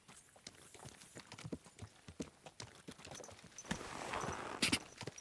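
Horse hooves clip-clop in a quick uneven rhythm in the video game Kingdom Come: Deliverance 2, fairly close, then fade under a rising rustle and a brief sharp noise near the end.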